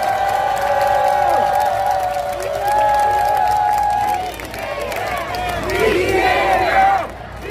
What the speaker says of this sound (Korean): 격려의 박수, 축하의 박수 부탁드립니다